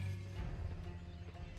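Cavalry lancers' horse hooves in the Age of Empires 4 real-time strategy game, a steady low clatter of many hoofbeats with occasional neighs, continuous and fairly loud throughout.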